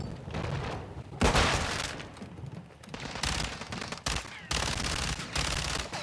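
Gunfire in Call of Duty: Modern Warfare 2, with loud bursts of automatic fire broken by a heavy boom and short pauses, close and dense, and a voice briefly heard among the shots.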